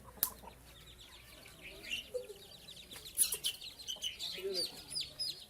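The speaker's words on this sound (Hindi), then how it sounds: "ये है बैंटम।" Bantam chickens kept as show birds clucking and chirping in a coop at a general store, soft scattered calls with a brief wing flap, faint and mixed with background chatter.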